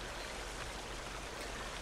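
Stream water flowing in the video game Sons of the Forest, a dense continuous rushing and trickling babble, even and close with no voices.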